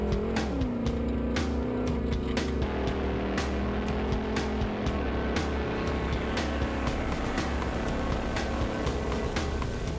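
A carbureted car engine drones and rises in pitch as it revs, steady and close, with sharp clicks and knocks scattered throughout.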